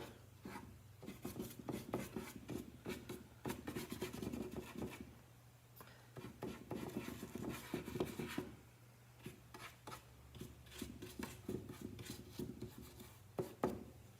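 Soft repeated rubbing strokes of wax being buffed onto a surface by hand, quiet and close, in uneven bursts with brief pauses between passes.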